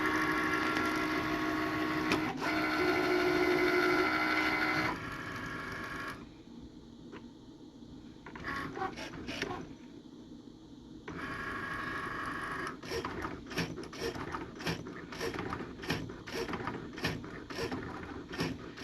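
A cutting machine cuts a rhinestone flock design, heard as a steady mechanical whir and buzzing motor in stretches, broken by pauses and bursts of short clicking head movements, with no voices.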